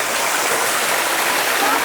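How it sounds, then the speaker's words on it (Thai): Green-watered waterfall in a forest near Ban Sing Tham, Chiang Kham, Thailand, pouring from above; a steady, loud broadband rush of falling water fills the whole stretch without pause. "โอ้ยน้ำตกจากข้างบนเลยนะครับ"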